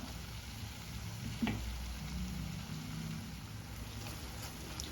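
A quarter cup of unsoured yogurt goes into spiced masala frying in a pan for an Afghan-style egg curry, producing a steady, even sizzle with one brief clink of a utensil, close by and without talk.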